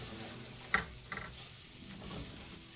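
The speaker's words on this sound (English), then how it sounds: "toast it a little bit. Okay, so that it toasts and coats the rice." Rice toasting in oil in a pan for paella, giving a soft, steady sizzle with a few small pops and stirring scrapes, close by and fairly quiet.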